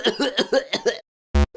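A harsh, hacking coughing fit of about six rapid coughs in a row, close and loud, followed by a short silence, a gasping intake of breath and the start of another cough.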